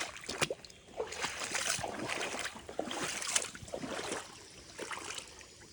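A hiker on the Appalachian Trail wades through the water of a flooded bog, with steady splashing and sloshing from close by, the rough surges rising and falling continuously.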